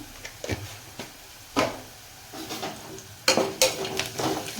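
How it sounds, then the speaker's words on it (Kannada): Onions frying in a pan for idli upma, with salt and sugar added, make a faint sizzle broken by several sharp spatula scrapes and clinks against the pan. "ಈ ಥರ ಉಳ್ಳಾಗಡ್ಡಿ ಎಲ್ಲ ಕಡೆ ಹೆಂಗೆ ಈ ಥರ ಫ್ರೈ ಆಗ್ಯಾವ ನೋಡಿರಿ"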